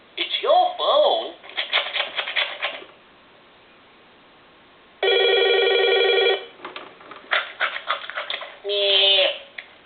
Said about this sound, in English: You want me to answer that? It's your phone.